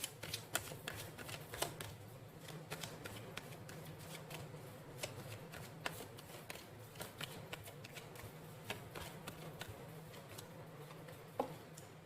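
Tarot cards are shuffled close by in a steady run of crisp riffles and soft slaps, fairly quiet and with no talk over them.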